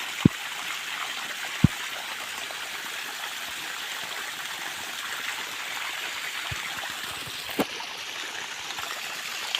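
Water from about ten to twelve drip irrigation pipes in a sugarcane field, pumped by a motor, makes a steady rushing, trickling hiss throughout with a few faint knocks.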